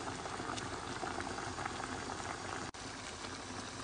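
Fish sauce for red-braised rainbow trout, with soy sauce, cooking wine, sugar and lemon, boiling and reducing over high heat: a steady, close bubbling simmer throughout, with one brief dropout near the end.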